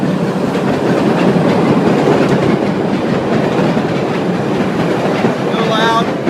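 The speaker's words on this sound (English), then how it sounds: "And there's the train." A train passes close by in Chicago, a loud, steady rumble with rhythmic clickety-clack of wheels on rail throughout, ending with a brief high squeal.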